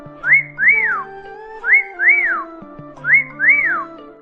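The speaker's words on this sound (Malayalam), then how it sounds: "വിസിൽ" A person whistles a repeated tune of three short phrases, each a quick rising-and-falling glide, clear and close with brief pauses between, no talking.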